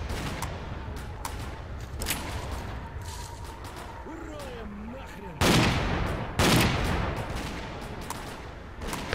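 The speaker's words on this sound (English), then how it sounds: "I don't know what they're shooting at, but you would think they would have run out of ammo by now." Gunfire in the video game S.T.A.L.K.E.R.: Clear Sky: scattered shots crack throughout, with two louder, closer bursts standing out midway, over a steady ambient game background.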